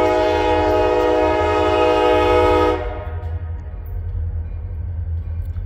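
Wheeling and Lake Erie 7006 freight train hauling tank cars at a road crossing, its loud horn blowing steadily for nearly three seconds, then the rumble and clatter of the passing train continuing alone.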